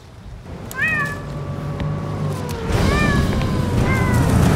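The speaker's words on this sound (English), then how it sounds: "There's a cat!" A cat meows three times, drawn-out and fairly close, over a busy background of outdoor noise.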